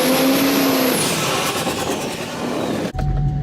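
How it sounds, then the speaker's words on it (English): A Duramax diesel pickup with independent front suspension makes a four-wheel-drive boost launch on dirt, its engine roaring loud and close as it accelerates, then cutting off abruptly near the end. "I did a 4-wheel drive boost launch to attempt to break the tiny tie rods that we have on these IFS trucks"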